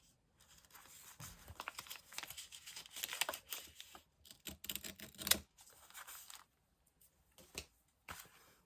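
Paper for a junk journal made of book pages and scraps is cut with scissors at close range, giving faint intermittent snips, rustles and crinkles, with short quiet gaps between them.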